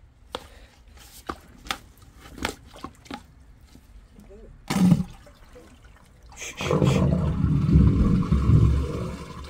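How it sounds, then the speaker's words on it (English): Water rushing down a freshly unblocked household drain, starting as loud sustained gurgling flow after several sharp knocks and clatters, with voices in the background. "Nothing better than the sound of running water in a drain."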